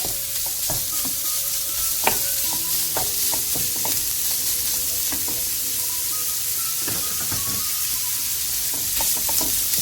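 Minced beef sizzles steadily in a hot pan as it releases its fat, with a spoon stirring and scraping now and then, close up and with no talking, while making kadınbudu meatballs.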